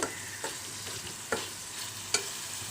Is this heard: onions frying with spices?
yes